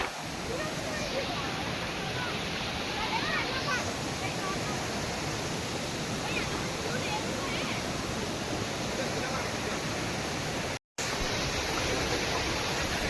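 Broad, steady roar of a waterfall at Dang in Ahwa, rushing evenly and loud throughout, with a brief cut near the end before the same rush resumes.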